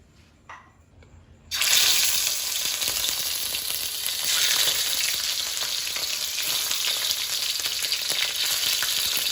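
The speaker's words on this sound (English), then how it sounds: "And now on medium flame, let's place the prawn in the wok one by one." Prawns go one by one into a wok of hot oil over a medium flame for shallow frying; after a quiet start, a loud, bright sizzle bursts in and keeps crackling steadily to the end.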